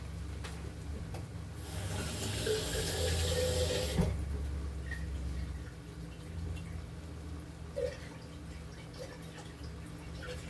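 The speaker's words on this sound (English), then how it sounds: "I'm going to add some water." Tap water runs into a cooking pot for spaghetti sauce for a couple of seconds, a steady rushing stream that stops abruptly, followed by quiet kitchen ambience with faint clinks.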